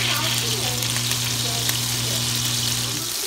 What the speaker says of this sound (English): And that is butter and olive oil that is being kind of semi-fried, sauteed in.